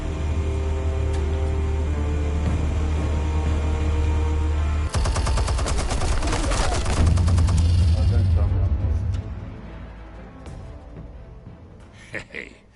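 Sustained gunfire and explosions rumble through a Batman Telltale game scene, loud and dense with a rapid rattling burst midway, then fade into sparse, quieter clatter and a few faint impacts near the end.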